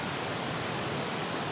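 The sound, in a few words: recorded river sound played for meditation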